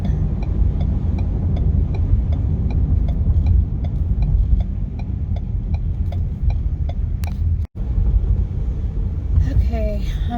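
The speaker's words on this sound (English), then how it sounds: "Okay, I'm driving up to the shopping center where this particular Ross is located at" A car drives toward a shopping center, a steady low engine rumble and road noise filling the cabin with a faint repeating tick, loud and close, with a short break in the sound near the end.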